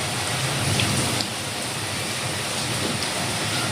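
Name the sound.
rain falling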